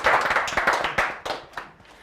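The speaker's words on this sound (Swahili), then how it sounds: "makofi." A short burst of hand clapping, roughly eight or nine distinct claps in an uneven rhythm, starting strong and thinning out as it fades.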